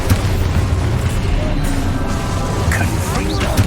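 Expulso spell blasts in the video game Hogwarts Legacy, a dense rumbling explosive burst with booming low end sustained throughout, loud and continuous with game effects layered over it.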